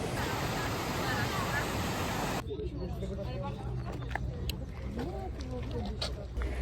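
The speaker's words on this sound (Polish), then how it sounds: "generalnie to jesteśmy już na wodospadzie" Waterfall in the Karkonosze mountains near Karpacz: a dense, loud rush of falling water fills the first seconds, then drops back to a softer roar under a person talking close by.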